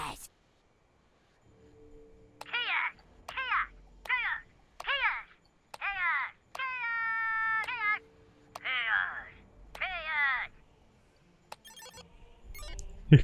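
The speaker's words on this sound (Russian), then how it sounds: "Я слышу кошек." Cats meowing in South Park: The Fractured But Whole, a string of about nine distinct, separate meows at irregular intervals, mostly alone, with a brief electronic tone in the middle and a clattering burst at the end.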